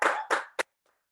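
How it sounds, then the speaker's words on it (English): Audience clapping for a team member at a celebratory business meeting, in three separate bursts, two longer rounds and then a short sharp clap, trailing off into near silence. "Yes, clap for him."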